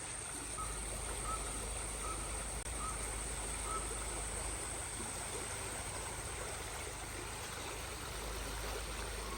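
Small stream flowing beside a bridge at Punnakkal, a faint, steady wash of running water with low rumble and a few distant bird calls.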